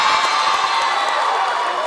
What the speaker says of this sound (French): Vous l'applaudissez très fort